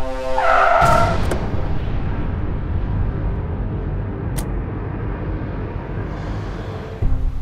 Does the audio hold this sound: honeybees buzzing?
no